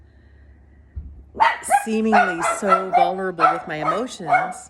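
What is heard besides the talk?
dog barking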